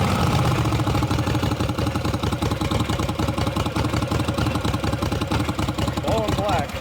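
A Husqvarna LTH 18538 lawn tractor engine runs rough close by, a loud, steady, uneven chugging and knocking idle that continues throughout with no speech.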